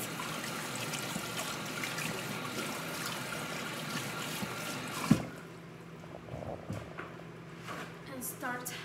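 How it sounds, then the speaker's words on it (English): Water runs steadily from a home tap as hands are washed, a broad continuous stream that cuts off abruptly midway, leaving quieter room sounds and small clicks afterward. "I'm gonna wash my hands."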